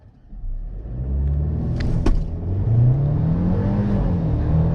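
A 2021 Mercedes-Benz GLC 300 in Sport Plus mode launches hard, its engine note rising steadily in pitch from a low rumble as it accelerates, with a brief click and whir near the start.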